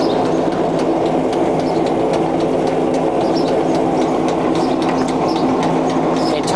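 A Wilson gap bed lathe running with the lead screw engaged to the carriage: a loud, continuous mechanical whir with a steady hum and rapid rhythmic clatter, close up and unbroken.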